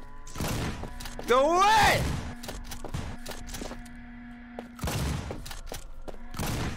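Shotgun blasts in a horror video game with a megahorn monster: four sharp, loud booms spaced a few seconds apart, mixed with a shouting voice and eerie rising game tones.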